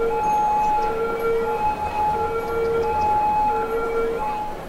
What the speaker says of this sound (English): Oh, there goes the ambulance.